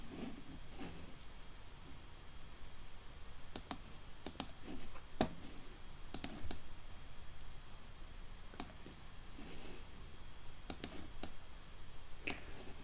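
Sparse computer mouse clicks during modeling work, small sharp ticks scattered singly and in quick pairs over a quiet hiss, close and faint.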